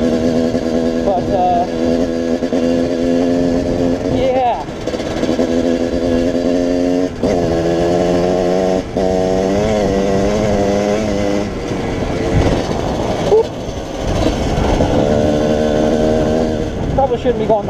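A Kawasaki KX 125 two-stroke dirt bike engine buzzes and revs loudly while riding on a loose road, pitch rising and falling with throttle changes, with a rider talking over it.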